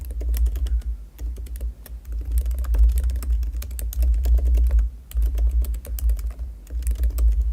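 Close, quick computer-keyboard keystrokes come in uneven bursts with short pauses, as an address is typed in.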